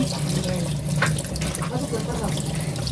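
Running tap water streams steadily while mud is rinsed off freshwater prawns, a continuous splashing and gurgling wash with faint murmurs of voice in the background.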